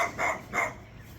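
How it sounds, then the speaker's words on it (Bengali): A dog on a farm gives two separate barks, loud and close, with a short gap between them and quiet after. "ওর কুকুরটা বউ বউ করতেছে"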